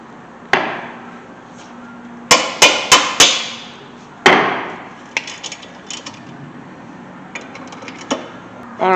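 Metal hammer strikes ring out while front brakes are replaced on a 2008 Toyota Corolla: a single blow, then a quick run of four, another hard hit and lighter taps, all sharp, close and loud.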